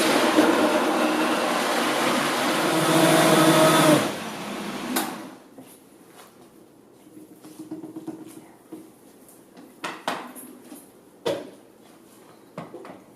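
A blender whirs loudly for about four seconds, blending a dairy-free vegan pineapple smoothie, then cuts off, leaving faint clinks and knocks of handling.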